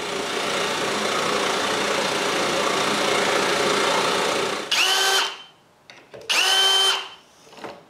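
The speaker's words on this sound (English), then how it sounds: "I need to move the fence for half overlay doors and drill the rest of them" A power drill bores holes for half overlay cabinet doors after the fence is moved, a long steady whine giving way to two short, loud, separate bursts, close and with no talk.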